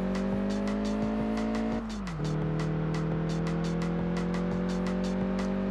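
Car drifting around a hairpin in the PS2 racing game Test Drive Unlimited: a steady engine whine that drops in pitch as the car turns, with a brief scrub of tire noise, then settles again, against a rhythmic music beat.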